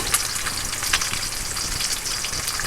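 Bacon strips fry in a pan over low heat, a steady close crackling sizzle with occasional sharper pops and no voices.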